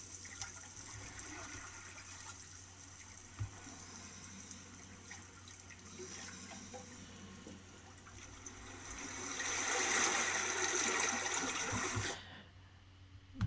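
Running water plays as a sound effect in an audio mix, a steady wash of splashing and flowing liquid that swells louder near the end before dropping away abruptly.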